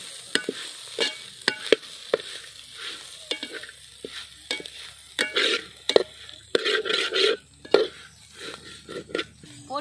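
Goat boti varuval stir-fried in a pan: a steady oily sizzle broken by repeated sharp scrapes and clacks of a spatula against the pan, close and irregular.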